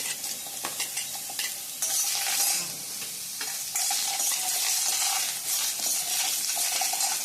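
Small onions and tomatoes sauté in a little oil in a pan for quail gravy, giving a steady close sizzle with occasional stirring scrapes and louder bursts of frying.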